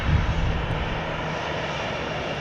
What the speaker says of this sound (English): Here comes flight 3557 from Orlando, Florida. 737-800 on runway DFW.